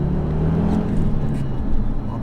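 An Audi TTRS Plus Stage 1 rated at 420 hp drives along with a steady low engine drone and road rumble, moderately loud and continuous, with no speech.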